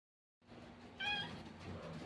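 Kittens less than a month old meowing, one clear close meow rising above a faint steady indoor background after a moment of silence.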